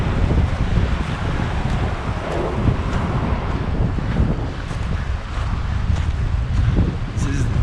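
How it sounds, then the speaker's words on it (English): Strong wind buffets the microphone with a constant, heavy rumble that barely lets up, beside the Humber at Humber Bridge Country Park, Yorkshire. "This is definitely windy on the Humber."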